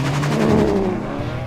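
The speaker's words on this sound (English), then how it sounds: "we decided to have a drag race down the Continental runway. Aston v Bentley v Ferrari" Bentley Continental SuperSports, Ferrari 599 HGTE and Aston Martin DBS launching together in a drag race down a runway, a loud steady engine roar with rising pitch, close and continuous.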